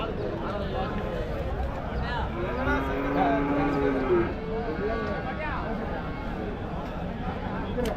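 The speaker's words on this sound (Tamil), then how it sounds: "நல்ல பெரிய மாடுங்க தான்." Large bullocks at a busy cattle market low with a long, drawn-out moo in the middle, set against a dense crowd of voices and general market bustle.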